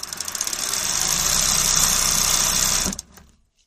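A sewing machine driven by a MAK SM750P 750 W servo motor runs up to speed with a loud, close mechanical whir and rattle, holds steady, then stops abruptly and winds down to silence.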